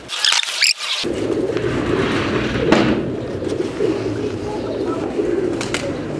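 Pigeons coo softly and steadily over a dense rustle of wings and movement, nearby, with a few sharper flutters near the start.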